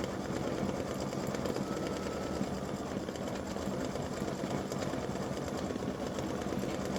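Embroidery machine stitching a Valentine's Day mug rug design, a steady, rapid mechanical whirring and needle chatter that runs evenly and close throughout, with no voices.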